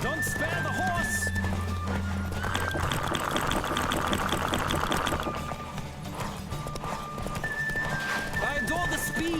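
A horse gallops with rapid rhythmic hoofbeats in The Witcher 3, neighing at the start and again near the end, with game music and ambient sound beneath.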